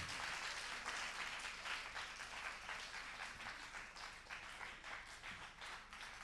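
Applause fills a French television contest studio at a semi-final, steady dense clapping from the audience that holds at an even level throughout without pause.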